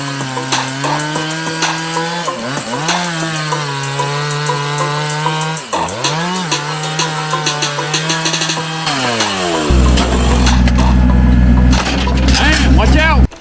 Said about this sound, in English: get a chainsaw and just start going at it.